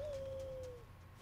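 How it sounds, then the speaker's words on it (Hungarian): A bird in the video game Far Cry Primal gives a single drawn-out, slightly falling call lasting under a second, clear above a low steady game background hum. "Na és most jön a madár."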